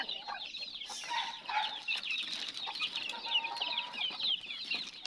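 Newly hatched ducklings peep in a busy, overlapping chorus of thin, high calls, close and continuous, with a few louder bursts among the chatter.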